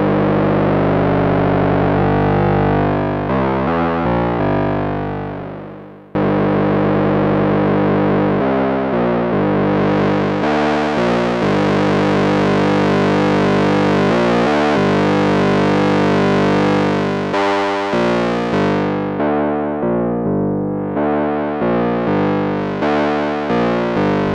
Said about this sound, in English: FM's a really nice way of adding some richness, but also some mad discordant sort of bell-like tones.